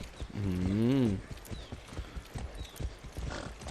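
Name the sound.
horse hooves while riding horse in Far Cry 6 video game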